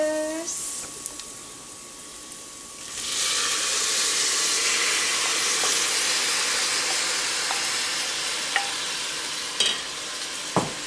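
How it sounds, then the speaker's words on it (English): Hot peppers and tomatoes sauté in a pan with a steady sizzle and hiss that swells loudly once the tomatoes go in, with occasional stirring clinks and taps, close by. "these are gonna saute for another 4 minutes"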